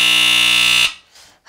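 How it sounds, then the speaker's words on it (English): A household smoke detector sounds a loud, piercing continuous alarm tone that cuts off abruptly after under a second, leaving near silence. "Yes, it's a smoke detector."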